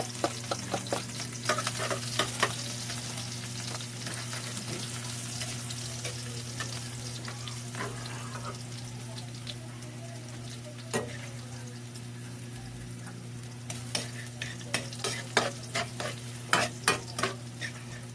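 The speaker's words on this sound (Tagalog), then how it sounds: "igisa natin mga lods yung ating bawang" Garlic sautéing in a pan for a tuna, tofu and black bean dish: a soft steady sizzle with repeated spoon scrapes and clicks, the stirring growing busier toward the end, no voices.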